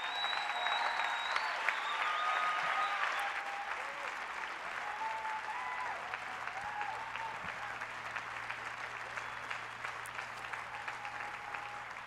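A church congregation applauds steadily for someone's courage, a broad sustained wash of clapping from a large crowd, with faint voices and a low hum underneath.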